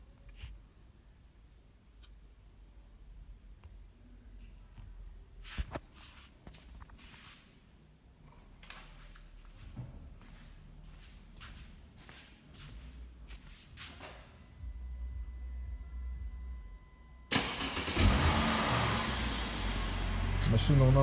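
A Mercedes W212 sedan with a newly fitted alarm system starts up: after quiet clicks and handling noises, the engine catches with a sudden loud rush and settles into a steady, close running roar.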